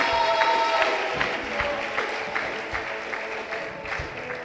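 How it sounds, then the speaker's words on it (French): A church congregation claps and cheers for a brother, a dense, steady wash of applause with scattered sharp claps over faint sustained tones, filling the hall throughout. "Acclamons pour le frère Moussa"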